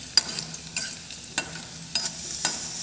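Garlic tossed into hot oil already frying a bay leaf, giving a steady faint sizzle broken by sharp, regular spoon scrapes against the pan, about five strokes, close by with no talking.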